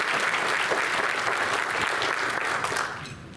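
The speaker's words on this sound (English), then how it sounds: "So, round of applause." At a Japan-America Society of Tennessee annual meeting, an audience gives a sustained round of applause that stays loud and dense, then fades slightly at the end.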